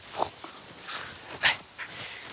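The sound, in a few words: dogs snorting and moving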